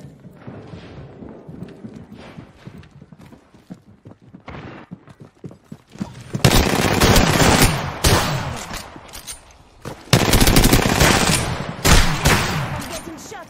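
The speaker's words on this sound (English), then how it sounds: "I'm getting shot at." Gunfire in the battle royale game Apex Legends: scattered faint shots at first, then loud rapid automatic bursts and volleys crowding the second half, separated by short gaps.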